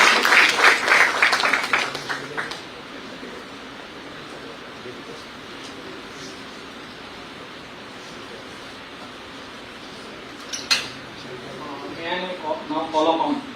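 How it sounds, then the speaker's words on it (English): Audience applause for a winning moot court team at a National Law Day event fills the opening seconds with a burst of clapping, then fades into quiet hall ambience before brief scattered claps and speech return near the end. "Please give the team a big applause."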